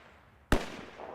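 A single sharp gunshot from a firearm in the Atom RPG video game bursts out of near silence, then rings off in a short fading tail.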